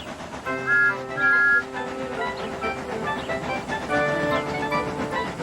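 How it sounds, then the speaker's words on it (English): Train whistles sound in a few long, steady toots, separated by pauses, over a low rumble of rolling rail cars. "Gordon, James, and Henry were waiting to lead off. They whistled impatiently."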